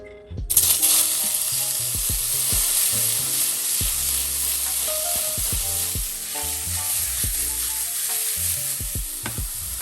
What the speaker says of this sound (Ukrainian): І будемо зараз з вами обсмажувати наші брокколі.